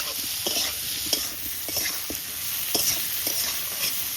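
Potatoes, vegetable stalks and chilli stir-fried with salt and turmeric in a pan, a steady sizzle under repeated scraping strokes of a spatula at an even rhythm.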